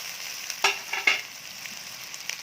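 Mie goreng ayam noodles being stir-fried with vegetables in a wok, a steady soft sizzle broken by a few sharp scraping and tossing strokes from a spatula, close and without talk.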